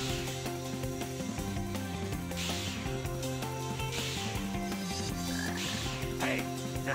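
Repeated croaks from a frog in the Sonic Heroes video game, sounding several times over busy, steady game music at a fairly loud level.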